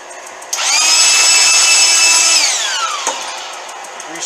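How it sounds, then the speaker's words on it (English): A restored drill press spins up abruptly with a loud steady whine, runs for about two seconds and then winds down with a falling pitch, with no talk. "I think it'd be nice to use this"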